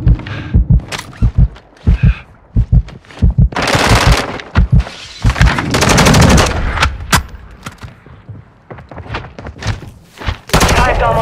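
Loud automatic weapon fire in the video game Warzone 2 on PS5, with rapid bursts of shots and sustained volleys repeating throughout, close and dominant.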